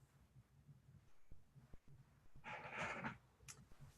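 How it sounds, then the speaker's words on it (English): A dog makes a brief whining vocalization in a quiet room, preceded by soft thumps and faint low noise. "Puppy."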